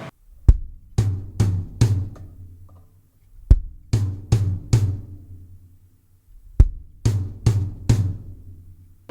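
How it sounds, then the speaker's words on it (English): Gospel-style drum fill played on the second tom of a drum kit, three short bursts of rapid strokes, each group opening with a sharp hit, ringing out between phrases, close and loud with no talking. "Then you do the same thing on the second tom,"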